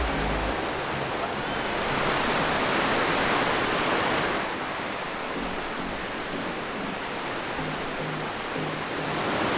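Loud, steady rushing water roars throughout, a broad continuous wash pouring down a 25-meter natural rock water slide in Bali, with no voices.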